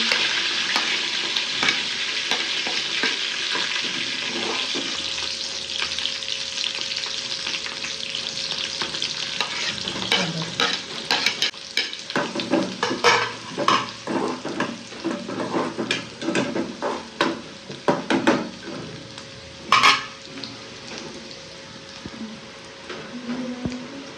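Bay leaf, curry leaves and chili hitting hot oil in a pan for a dry fresh bombil fish dish: a loud, steady crackling sizzle, then sharper popping and spattering bursts, close and without talk.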